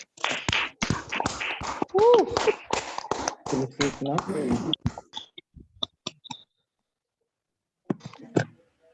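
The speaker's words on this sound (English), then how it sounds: "give Toastmaster Priyanka and hello, and the editorial team a good round of applause" A crowd at a Toastmasters meeting claps steadily for several seconds, dense and close, then the applause thins into a few scattered claps before fading out.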